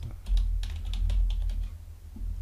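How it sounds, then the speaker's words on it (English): Fingers tap out a password on a computer keyboard during router and access point setup, a quick run of light, close key clicks over a low hum, with no voices. "I'm going to just put in a password."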